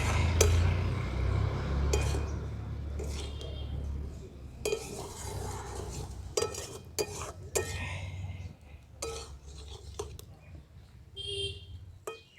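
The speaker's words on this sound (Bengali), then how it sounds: "সবজিগুলো দিয়ে খুব ভালো করে আমি এই মশলার সঙ্গে মিশিয়ে নিচ্ছি।" Fried vegetables being stirred with spices in a pan while cooking a village-style vegetarian paneer dish, with repeated scraping and clinking of a spoon against the pan in irregular bursts over a low background hum.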